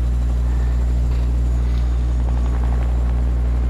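A video game helicopter drones continuously, its steady low rotor and engine hum loud and unbroken, with no talk over it.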